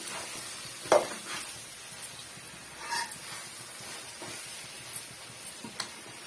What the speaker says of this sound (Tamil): சேர்த்துட்டு நல்லா வந்து கலந்து விடுங்க இந்த மசாலாலாம் கத்திரிக்காயில் நல்லா இறங்கி வரணும்